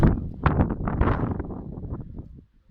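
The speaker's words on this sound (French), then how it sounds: "Désolé, il y a du vent." Low rumbling wind buffets a microphone in uneven gusts, loud and boomy, fading out near the end.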